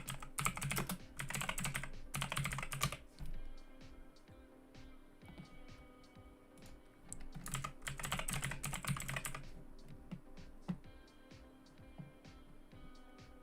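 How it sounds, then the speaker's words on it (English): Computer keyboard typing in bursts of rapid keystrokes, two dense flurries separated by quieter stretches of sparse, scattered key taps, close and clear over a low steady hum. "Maybe I was typing it in wrong."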